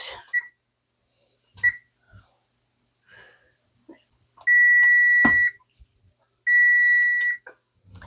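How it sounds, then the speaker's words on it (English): A kitchen cooking timer during meal prep for egg muffins and French toast, two sustained electronic beeps of about a second each, loud and close, amid scattered quiet clatter and faint whispery sounds. "There's the timer."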